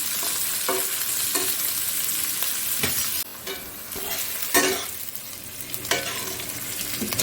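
Large-cut onions frying in oil as the base of a chicken curry, a close steady sizzle broken by repeated scraping stirs of a spatula against the pan, with no one speaking.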